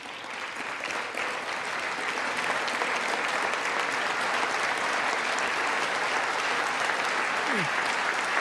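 A large audience at the State of the Union address stands and claps in sustained, dense applause that holds steady and loud from start to finish, with crowd murmur underneath.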